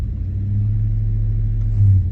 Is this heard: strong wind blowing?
no